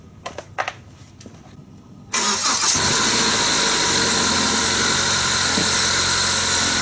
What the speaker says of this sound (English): I'm going to go ahead and start the engine and check for leaks.